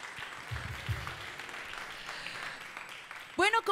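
Audience applause for a band at the Costa Rica Suena Así national-artist showcase, a steady moderate patter with a couple of louder bursts, fading before a voice briefly begins at the end.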